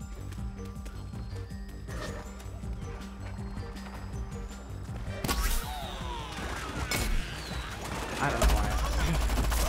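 Gunfire in the shooter game Plants vs Zombies Garden Warfare 2 crackles in dense bursts over game music and a voice, growing busier and louder toward the end.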